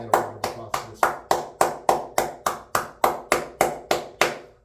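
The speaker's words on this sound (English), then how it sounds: "Everybody stand up and give that man a round of applause for this" One person claps for Ikenberg, about fifteen sharp, evenly spaced claps in a steady rhythm, close and distinct, with a short hum early on.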